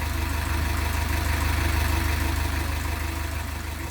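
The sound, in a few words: canal boat engine cruising past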